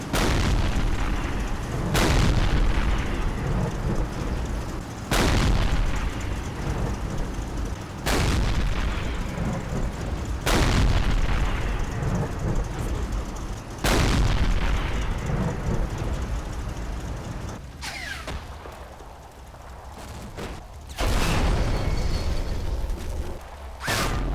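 Anti-tank gun firing in Combat Mission Red Thunder, a string of heavy booming shots at regular intervals, each with a long rumbling decay, no voices.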